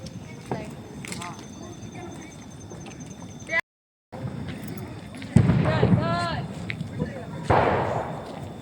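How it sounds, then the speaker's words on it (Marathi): Several sharp firecracker bangs pop at intervals during Diwali Lakshmi Puja, some near and loud, mixed with people talking in the background. "त्यानंतर फटाके वाजलेले आहेत"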